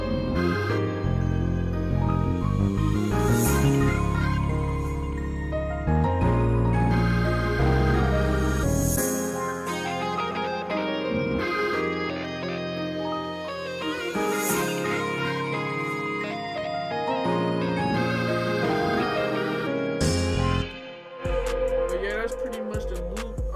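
A full pain-style melody beat made in FL Studio, with bell melody, guitar one-shots, ambience and cymbals over a heavy bass. The layered loop plays loud and steady, with cymbal swells rising every few seconds and a short break near the end.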